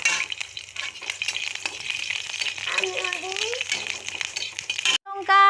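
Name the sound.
green chilies frying in hot oil with nigella seeds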